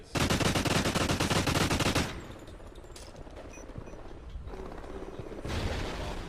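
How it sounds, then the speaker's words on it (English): MTAR assault rifle fire in a shooter video game clan tournament: a dense, loud automatic burst for about two seconds, then quieter scattered game sounds and a second rising burst near the end. "Sending the barrage of those fearsome MTAR bullets downrange."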